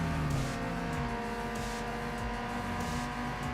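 Inline-4 race car engines from Need for Speed Underground 2 drone and rev steadily, a continuous loud mechanical hum with shifting pitch as the cars race side by side.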